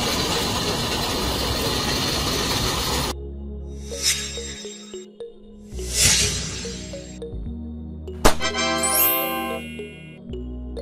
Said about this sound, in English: Steam locomotive. Steam locomotive.